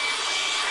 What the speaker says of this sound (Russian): Берем клей, фен, прогреваем